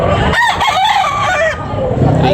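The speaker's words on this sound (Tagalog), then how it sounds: "Guwapong manok." A rooster crows loudly and close at a poultry sale in Carbon, Cebu, one full drawn-out call with a clucking edge, with market noise around it.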